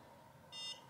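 NuFace skincare device giving a single short electronic beep, faint and clear over quiet room tone, no talking.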